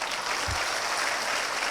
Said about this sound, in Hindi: अभी सब ने तालियां बजाई